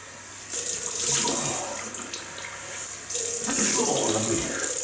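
Cold water runs steadily from a bathroom tap for a face rinse after a wet shave, a close, continuous hiss and splash that swells midway.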